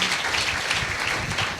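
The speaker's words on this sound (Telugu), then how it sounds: "చప్పట్లు కొట్టరే మరి బిగ్గరగా." Loud, dense applause from an audience at a Christian sermon, steady and sustained throughout without a break and with no voices over it.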